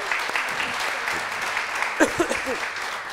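Studio audience on a Turkish daytime TV show applauds steadily in the background while a host's voice cuts through near the end.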